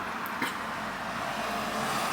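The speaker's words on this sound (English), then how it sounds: "Sorry about the car noises." Car traffic passing outside, a continuous broad road rumble with a slight swell, steady and moderately loud throughout.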